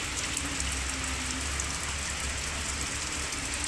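Steady rain falling in Bicol, Philippines, a dense continuous patter with a low rumble underneath, no voices.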